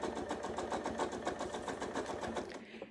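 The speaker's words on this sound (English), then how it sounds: "So right now, I should be able to really easily just sew right down that ditch." A sewing machine stitches steadily down the ditch of a quilt seam, a fast even mechanical chatter at close range that stops abruptly at the end.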